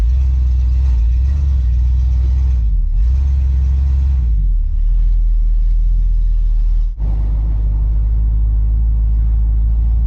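A Ford Galaxie engine idles steadily while warming up on a hot day, a loud, close, continuous low rumble with slight shifts in tone and one brief dip near the end. No one speaks.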